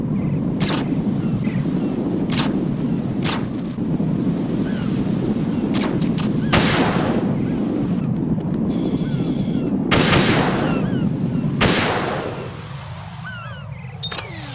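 Heavy gunfire in Metal Gear Solid 2 as control units are shot: repeated loud bursts over a constant roar of wind and surf, with a sharp mechanical rattle partway through before the din eases near the end.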